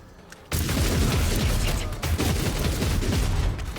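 Gunfire volley in Rogue Trader erupts after a brief quiet moment, becoming a dense, loud barrage of overlapping shots and mechanical clatter that continues steadily to the end.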